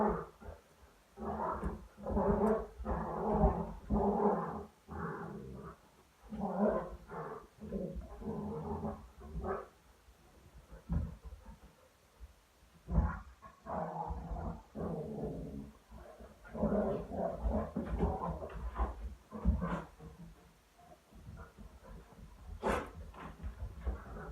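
A dog growls and snarls in rough, rumbling bursts for a long stretch, close and fairly loud, pausing briefly before resuming its throaty grumbling.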